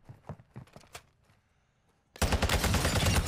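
Rapid automatic fire from akimbo X13 auto pistols in Warzone 2 erupts suddenly as a dense, continuous burst, loud and close, after a few quieter clicks and steps.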